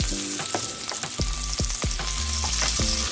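Plenty of garlic sizzling in hot oil in a pan for a vegetable and pork stir-fry, a constant crackling hiss broken by repeated spatula scrapes and taps against the pan.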